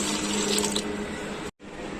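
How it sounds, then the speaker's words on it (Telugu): Steady rushing pour of water into a cooking pot for chicken dum biryani, continuous for about a second and a half, then abruptly cut off before resuming more quietly. "ఒకటికి నేను 2 గ్లాసెస్ వాటర్ యాడ్ చేస్తున్నాను."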